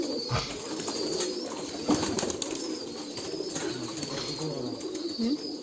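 Pigeons in a large loft of about 200 birds at feeding time coo in low, intermittent calls, some overlapping, against a steady background hum with faint higher bird sounds.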